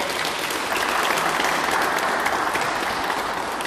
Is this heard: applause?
yes